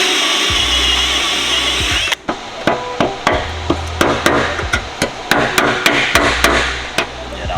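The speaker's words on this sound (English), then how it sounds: "You're just trying to drill through your one layer" Power drill biting through car body sheet metal on a Nissan R34 Skyline, a whining run that cuts out, then a series of sharp metallic knocks and taps at an uneven pace, loud and close.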